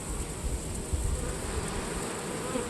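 Honeybees buzzing around an open beehive during an inspection, a steady, dense hum that stays constant and close throughout, with no voices over it.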